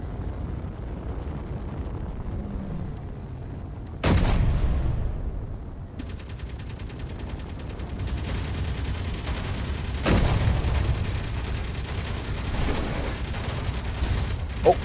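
Assault cannon gunfire in the video game Space Engineers: booming shots and bursts of heavy firing with low rumbling impacts, loud and near, over a continuous mechanical background.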